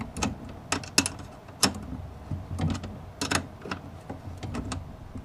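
Bolts are tightened on the chrome front bumper of a go-kart, a series of sharp metallic clicks and ratcheting knocks at irregular intervals, close and fairly loud.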